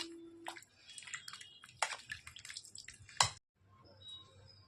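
Fresh butter squeezed by hand to press out water while making ghee, giving wet squelching and dripping sounds in several bursts, close by, with a short silent pause near the end.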